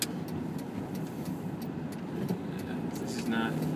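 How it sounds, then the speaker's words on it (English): A car passes on the road outside a moving vehicle during a drive, a steady engine and tyre rumble swelling slightly near the end, heard from inside the car. "Car coming."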